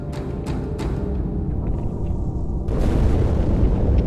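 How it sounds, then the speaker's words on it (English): A deep, rumbling explosion in Halo 2 swells into a louder, sustained roar after a few sharp pops, dense and heavy with no talk. "That explosion came from inside the Athens"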